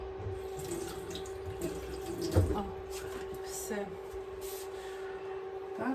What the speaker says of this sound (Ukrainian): Мабуть, водички мало зараз додам. Трошки водички ще.